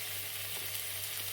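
Chopped vegetables, including celery, sweat in a pan for broccoli and Stilton soup, making a close, continuous gentle sizzle over a low steady hum, with no voices.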